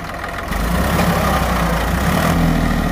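Tractor engine revving while pulling a cultivator in a field, a loud, steady low rumble that swells and holds for a few seconds, with no one talking.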